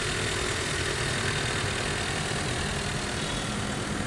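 A steady, low engine idle of a Mitsubishi Pajero Mini, under 800 RPM, rumbles evenly throughout, close by, with no voices and no change in pace.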